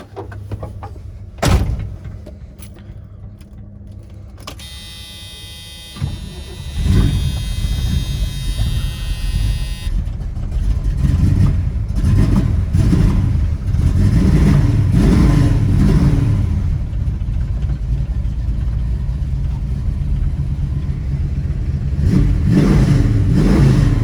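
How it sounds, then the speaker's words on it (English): A 1975 Pontiac Trans Am with a custom-built 455 cubic inch Pontiac V8 and dual exhaust: a door thunks shut, then the engine starts and revs repeatedly in loud, throaty surges over a rumbling idle. "Listen to this engine."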